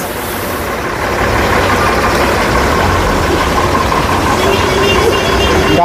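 A large bus on the Bakkhali–Dharmatala route idles at the bus stand, its heavy engine giving a loud, steady low rumble that swells slightly after the first second and then holds constant.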